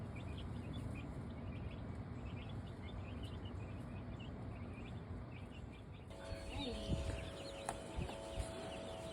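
Newly arrived baby chicks peeping softly in the background over a constant low noise floor, faint and continuous, with a few brighter chirps near the end.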